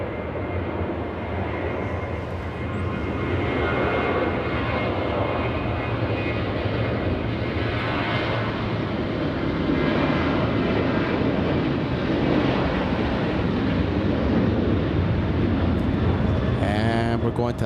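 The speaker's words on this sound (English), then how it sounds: "We have a big Delta flying in from New York, just a few seconds away from touching down." A large Delta airliner arriving from New York's JFK at LAX, seconds from touchdown, sends out a loud, sustained engine roar that stays strong throughout. Voices are faintly audible beneath it.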